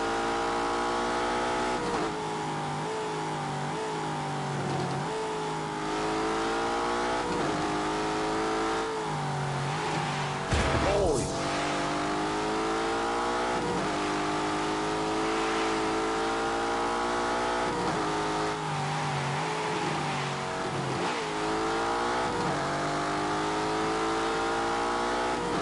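A high-performance car's engine runs in snow mode, revving up and down in repeated rising and falling surges over a steady rumble, fairly loud and continuous throughout, with one sharp louder burst near the middle.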